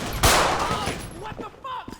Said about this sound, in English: I shot the hostage